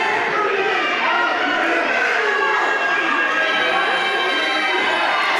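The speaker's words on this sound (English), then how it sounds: "Bull leading the Judias chants here" Wrestling crowd at a Bull Pen Professional Wrestling main event chanting for Judias, a dense, steady roar of many voices filling the hall throughout without a break.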